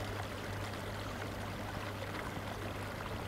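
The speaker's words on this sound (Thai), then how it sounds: "เนี่ยครับได้ยินเสียงน้ำที่ยังคงไหลอยู่ครับ" A small stream runs between rice fields in northern Thailand, a faint, continuous watery rush with a low steady hum beneath it.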